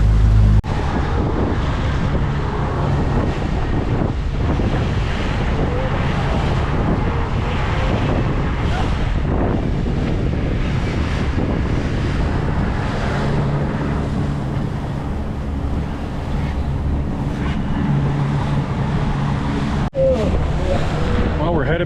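A fishing boat trolls back into the inlet on the ocean off Topsail, North Carolina, with a continuous engine rumble, heavy wind buffeting the microphone, and water washing past, while people talk now and then.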